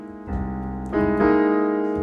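Sustained jazz piano chords ring out, a rootless dominant voicing struck and then fuller chords with sharp 5 and sharp 9 added on top, bright and close with no talking.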